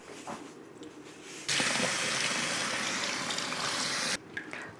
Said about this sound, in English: Going to wash the shrimp in salt water.